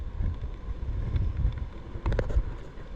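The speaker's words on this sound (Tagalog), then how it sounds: "Kalakas ng hangin." Low, rumbling wind from Typhoon Pepito under Signal No. 4 buffets the microphone steadily at Dinahican, with a brief rattle and flutter partway through.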